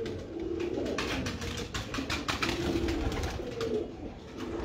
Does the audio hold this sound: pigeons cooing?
yes